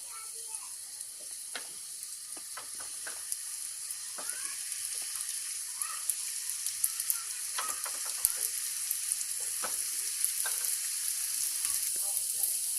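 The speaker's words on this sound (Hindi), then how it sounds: "गर्म करके हम उसमें एक एक करके ये सीख को डाल देंगे। हमें शैलो फ्राई करनी है, डीप फ्राई नहीं करनी है।" Chicken seekh kebabs shallow frying in a tablespoon of oil give a quiet, continuous sizzle with scattered crackles and pops throughout, heard close and alone.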